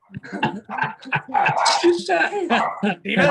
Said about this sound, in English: Got a dog. That's my dog.